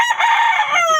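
A rooster crows once, loud and close, in a single sustained call lasting about a second.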